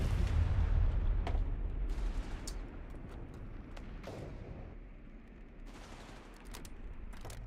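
The Anzio Annie railway gun shells the area in a World War II strategy game: a heavy, booming impact opens loudly, then scattered sharp cracks and distant bursts follow over a lingering low rumble.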